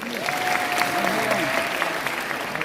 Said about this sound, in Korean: 하신 마음으로 박수 한번 주시죠